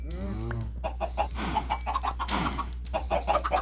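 Chickens clucking in a fenced yard near a swamp, a run of short, rhythmic clucks at moderate distance over a steady low hum, with a brief voice-like call at the start.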